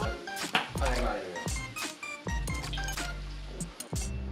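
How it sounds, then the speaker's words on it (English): Pasta sauce is poured and squished into a pot, giving wet, uneven plops and drips with a few clinks. Talking runs over it almost the whole time. "Next we're gonna add the sauce."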